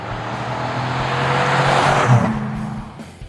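A 2014 Chevrolet Silverado 1500 crew cab pickup with a 5.3-liter V8 and a Force II catback dual-tailpipe exhaust, 2.5-inch tubing and a Super 50 series muffler, gives a steady, loud engine drone that swells slightly and then settles to idle, alone.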